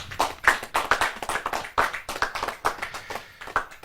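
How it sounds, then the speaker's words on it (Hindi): Clapping at a Hindi poetry gathering (kavi sammelan) as a guest is honoured, sharp individual hand claps in an uneven, fairly sparse rhythm, close and moderately loud, with no voices. "जोरदार तालियों के साथ"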